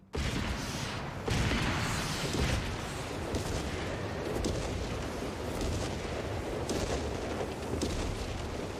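Rocket barrage artillery firing in Company of Heroes 3, a dense continuous roar of launches and explosions rumbling for several seconds with repeated sharper bursts layered throughout, loud and sustained.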